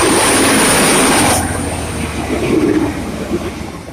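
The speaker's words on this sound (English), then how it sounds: "185 Diesel Desiro" A Class 185 Diesel Desiro train passes a station platform at Swinton, South Yorkshire, with a loud, close rush of wheels and engine roar that drops off after a second and settles into a lower rumble.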